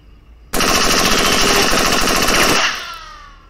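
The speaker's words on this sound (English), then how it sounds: "A rifle." Rifle gunfire in the Henry Stickman Collection video game, a loud, rapid automatic burst lasting about two seconds that ends in a fading tail, with no talk over it.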